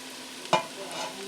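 Grated carrot and potato hitting a hot soup pot for broccoli cheddar soup: a single sharp clatter and sizzle burst as the vegetables drop in, then a steady low frying hiss, alone without talk.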